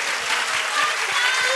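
At the completion premiere event for the Bakuryuu Sentai Abaranger 20th film, the audience claps for actress Maya Sakano's surprise stage appearance: brief, continuous, even applause filling the hall.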